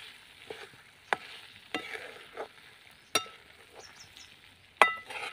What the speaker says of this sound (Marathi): आणि थोडंसं परतून घेऊया पुन्हा.